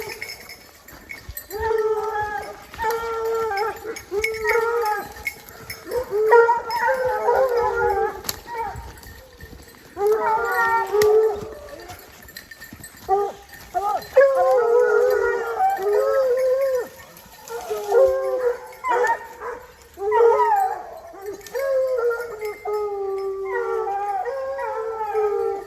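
A pack of hunting dogs bays and howls continuously on the scent of wild boar, loud overlapping cries rising and falling over about half a minute outdoors, with a person calling out now and then.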